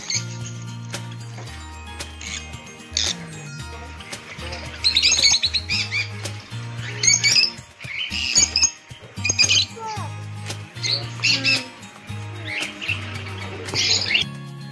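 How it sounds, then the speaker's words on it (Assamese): Small birds chirp and tweet in front of a shop, giving scattered bright calls in irregular bursts over a steady low droning background. "দোকান এখনৰ আগফালে চৰাইবোৰ ফুৰিবলৈ মোৰ দেখি ইমান ভাল লাগিলে অলপ সময় ৰৈ ভিডিঅ' কৰিলোঁ"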